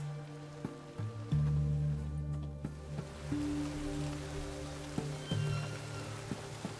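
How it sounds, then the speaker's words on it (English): Rain falls in The Witcher 3 as a constant soft hiss, with a low tonal hum and a few faint thumps running underneath. "Looks like rain."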